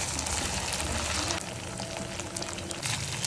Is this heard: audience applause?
no